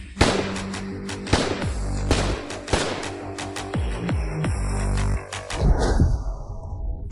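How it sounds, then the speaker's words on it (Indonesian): Gunfire crackles through a drama scene: a rapid volley of sharp, loud shots in irregular bursts, several cracks ringing close together over a booming low rumble. "Sial, ada suara tembakan"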